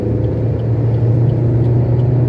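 A car cruising at high speed on a highway, around 120 km/h, a loud, steady low engine and road rumble from inside the cabin with no talk.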